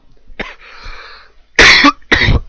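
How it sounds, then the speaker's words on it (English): Several loud, close coughs from a person with a cold, a short one followed by two harsh bursts, with a faint higher background tone between them. "sorry about all the coughing here"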